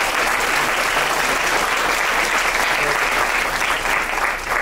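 Loud, dense crowd applause at a fraternity and sorority probate, continuous and close throughout the whole stretch with no break.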